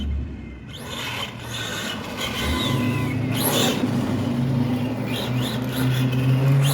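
A Kyosho Mad Van RC car on a 3S battery accelerates with a rising electric whine and gritty rasping of tires and gears, growing louder after the first second and holding steady.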